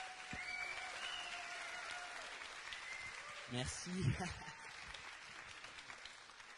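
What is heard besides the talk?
audience applause at a live showcase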